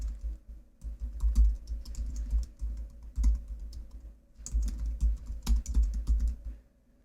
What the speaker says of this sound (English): I'm going to type second quarter cardio sales.